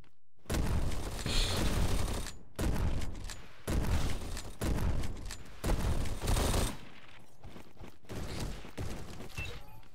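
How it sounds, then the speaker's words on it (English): Akimbo pistols firing rapidly in a video game: loud bursts of fast shots in repeated clusters, each lasting about a second with short gaps between, followed by quieter scattered fire. "It's always the akimbo pistols. I don't believe that they should have that much fire rate"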